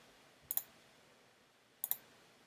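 A computer mouse gives two quick double clicks, crisp and close, separated by a pause over a quiet background hiss.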